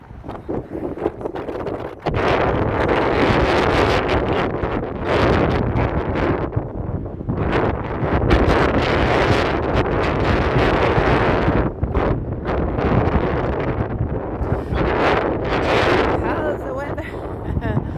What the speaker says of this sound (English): Sunny but windy.